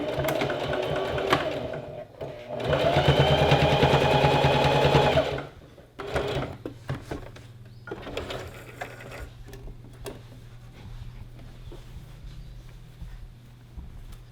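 A sewing machine stitches fabric for a gathered skirt with pockets in steady whirring runs, one long and loud, then shorter bursts and clicks, close up with a low motor hum between.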